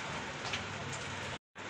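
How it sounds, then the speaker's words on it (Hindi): Light rain falls steadily outside as a soft, even hiss, close and continuous, with a brief dropout near the end. "धीरे धीरे बारिश हो रहा है,"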